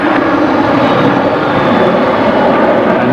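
Airliner jet engines roar loud and continuous at Brisbane Airport, a dense, steady broadband rumble as a Qantas jet lines up on the runway at sunset.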